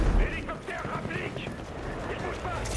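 Gunfire rings out in the solo campaign of the shooter game Battlefield 6, several bursts of shots over a busy backdrop while someone talks.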